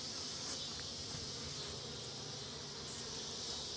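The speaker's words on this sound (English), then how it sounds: "I'm gonna check out these bees." Honey bees buzz at a hive, a dense, steady swarm drone that holds evenly throughout with no pauses.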